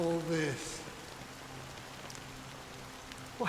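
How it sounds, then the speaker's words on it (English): Steady soft rain falls in the video game Honkai Star Rail, a continuous even hiss that runs throughout, with a voice speaking briefly at the start over it. "it's still raining"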